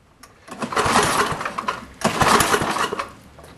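Snowblower engine cranked with the spark plug fully on, two loud rough bursts of sputtering, coughing engine noise separated by a brief dip, each firing for about a second before fading.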